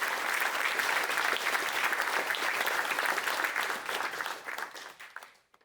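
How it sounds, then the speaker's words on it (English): A crowd at a Notre Dame fireside chat gives the speakers a warm round of applause, a dense, loud wash of clapping that holds steady and then fades out over the last second. "give them a warm welcome and round of applause as they're up here."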